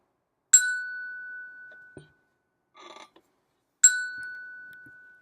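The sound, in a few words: percussion bells struck with a lifting stroke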